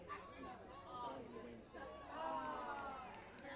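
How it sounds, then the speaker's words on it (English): Crowd at a softball World Series game with people chattering and groaning in a low, spread-out murmur, swelling toward the end, with no single voice standing out. "you heard the groans from the crowd"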